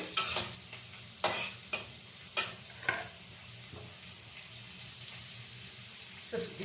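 Carrots frying in a pan, a soft continuous sizzle broken by several distinct scraping stirs of a spoon, close and fairly quiet.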